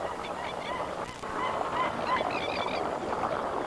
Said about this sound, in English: birds congregate here in enormous numbers